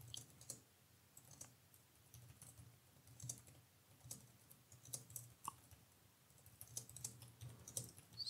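Steady typing on a computer keyboard while a book review is written, a quiet run of soft clicking keystrokes in an irregular patter with a faint low hum underneath and no voices.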